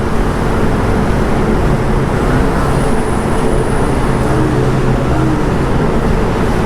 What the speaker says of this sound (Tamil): வண்டி சவுண்டு கேட்டிங்களா?